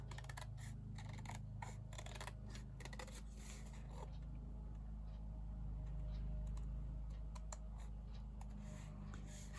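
Scissors cut out paper pieces for a paper-pieced stacked teacup design: rapid snipping clusters up close, then fewer scattered snips over a steady low hum.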